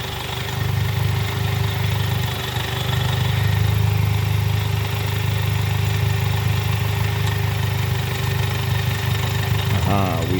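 A car engine runs with a DSG gearbox spinning in second gear, a loud, steady low drone that swells slightly midway, with a brief extra rattle near the end.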